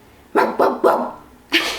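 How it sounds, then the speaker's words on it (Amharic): A dog barks four times, three quick close barks in a row and then a fourth after a short pause, loud and near with nothing else heard. "barking"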